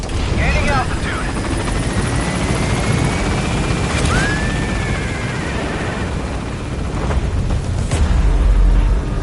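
The Pequod helicopter gaining altitude in Metal Gear Solid V, a loud, constant rotor and engine roar with a few sharp transient thumps and sweeping tones layered over it.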